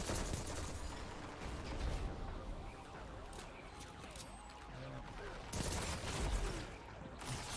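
Rapid bursts of heavy gunfire from power-ammo weapons during a Destiny-style Control match, continuous crackling shots with louder volleys near the start and end, mixed under game noise and voices.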